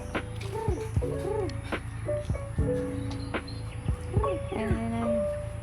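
Chickens clucking in Marinduque, a run of repeated rising-falling calls close by with low background noise and occasional voices.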